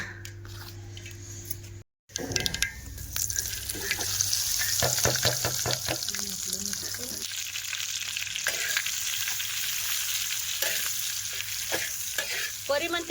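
Stuffed chilies cooking on a hot griddle, a steady close sizzle and crackle after a brief cut, with scattered squishing and scraping sounds throughout.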